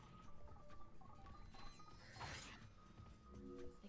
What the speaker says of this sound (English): Expose transmitters with the bolt crank.